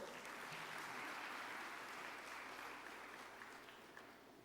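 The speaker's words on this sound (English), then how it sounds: "A huge round of applause." An audience at a sustainable energy week conference applauds a speaker, broad continuous clapping with a low room hum beneath that fades gradually toward the end.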